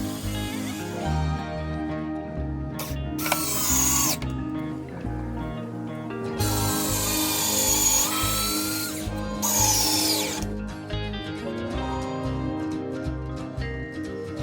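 A power drill whines in repeated bursts as it bores into hard pallet wood, the motor rising and straining between short pauses, close and loud.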